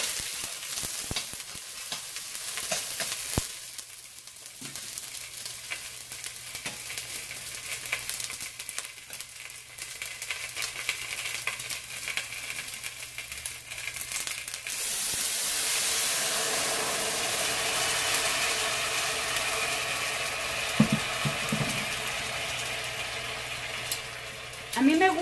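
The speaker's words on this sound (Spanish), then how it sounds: "Aquí tenemos nuestra cebolla friéndose." Onion frying in a pan for chilaquiles, a steady crackling sizzle close by that grows louder and brighter toward the end, with occasional stirring clacks and a voice talking over it at times.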